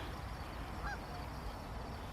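A single faint honk from a goose near its nest rises briefly over a steady, rushing outdoor background by the Portneuf River.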